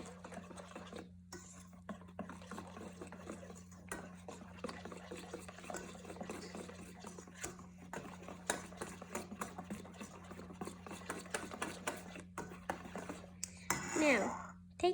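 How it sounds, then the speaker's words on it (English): Flour being stirred by hand into coffee cake batter in a bowl, a soft continuous scraping and tapping of a spoon against the bowl under a low steady hum, with a brief louder scrape near the end. "Now I just gotta stir that in."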